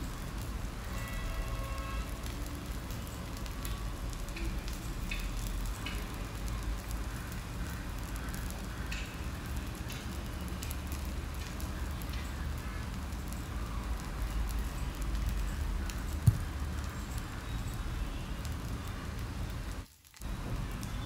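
Sabudana thalipeeth sizzles on a hot griddle over medium flame with a soft, continuous crackle that holds steady and fairly quiet, with one brief pause near the end.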